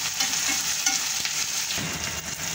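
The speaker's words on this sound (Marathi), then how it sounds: "आता आपल्याला ना 1 टमाटर कापलेलं टाकून द्यायचं त्याच्यामध्ये आणि 1-2 मिनिटं परतून घ्यायचं टमाटर।" Chopped tomato goes into a pan of onions and is sautéed for a green moong usal. There is a continuous soft sizzle with scraping stirring strokes and no voices.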